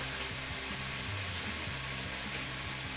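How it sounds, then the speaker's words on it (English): Tomatoes and bay leaves sauté in a pan with a steady, soft, continuous sizzle and a faint low hum underneath, with no talking. "so I'm just sauteing my tomatoes and my bay leaves for a few minutes"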